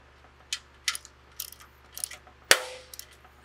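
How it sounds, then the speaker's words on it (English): A ratchet wrench with a 13 mm socket tightening carriage bolts during a trail swing install, giving a few scattered metallic clicks and clanks followed by one louder clang, close by and without talk. "We're gonna tighten the carriage bolts with a 13 millimeter."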